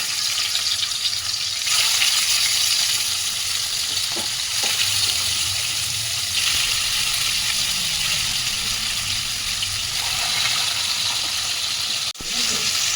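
Shol fish frying in mustard oil in a hot kadai, a steady close sizzle running throughout with brief clinks and shifts as pieces are turned.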